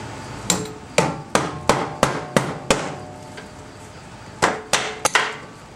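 A rubber mallet taps against the engine cover of a 2007 Honda Rancher ATV in a string of sharp, evenly spaced knocks, a pause, then a few more close, clear strikes with no talking.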